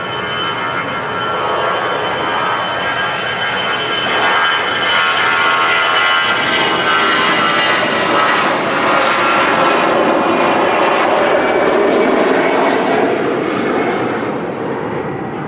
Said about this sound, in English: So the pitch on the runway outbound to Manchester is the A320.